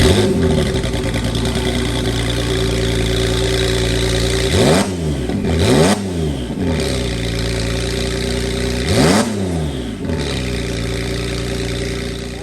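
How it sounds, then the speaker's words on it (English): A 2017 Porsche 911 base model fitted with bigger turbos and a methanol kit fires up and idles loudly, then its exhaust blips through three sharp revs that rise and fall, all close by with no talking. "All right, so let's hear this exhaust. I'll fire it up for you guys. Take a listen."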